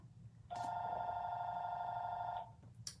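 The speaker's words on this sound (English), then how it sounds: "Sorry about the phone now" A telephone rings indoors with one steady electronic tone that lasts about two seconds and then stops, heard clearly in a quiet room.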